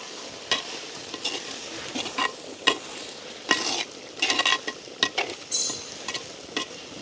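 A spoon scrapes and stirs chopped long-bean vegetables through hot oil in a pan over a village kitchen fire, with irregular sharp metallic strokes rising over a low, constant sizzle.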